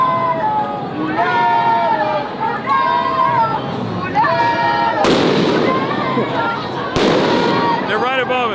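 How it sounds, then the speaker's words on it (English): Flashbang grenades burst overhead during a street protest where police also deploy tear gas: two sharp, loud cracks ring out about two seconds apart above a dense layer of shouting and crowd chatter. "They're throwing flashbangs."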